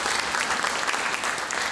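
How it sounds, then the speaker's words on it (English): Audience applauding the McMaster Symphony Orchestra at a spring concert, a dense, even wash of clapping from a full hall that holds steady without a break. "So another round of applause for your wonderful McMaster Symphony"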